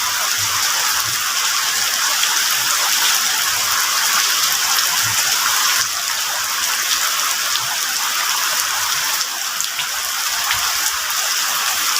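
Heavy rain pours steadily behind a house kitchen in a remote village in Trenggalek, a dense continuous hiss of drops with no voices, close and unbroken throughout.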